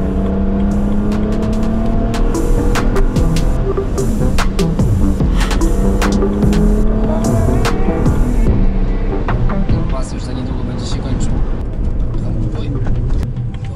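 A 500-horsepower convertible, just repaired after breaking down, accelerates hard with its engine revving loudly and steadily throughout, pitch sweeping upward as it pulls away; voices talk over the engine.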